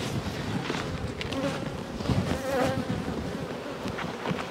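A very populous honeybee colony buzzes in a dense, steady drone throughout an opened hive during inspection with a smoker, close and continuous with no talking.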